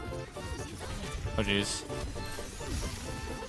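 A single sharp sneeze bursts out midway through a round of Overwatch, cutting through a steady bed of game effects and music and someone talking.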